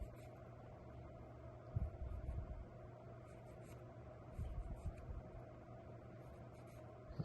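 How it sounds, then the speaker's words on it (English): Pencil drawing guide lines on a wooden piece for a small knife-carved Christmas gift, a soft close scratching that comes in two short bursts over a steady low hum. "I'll draw this one."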